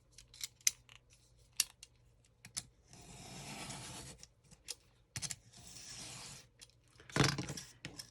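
Scissors cut laminating film to size for a journal pen holder, with two long, close, rasping cuts framed by sharp snips and small clicks, and no talking.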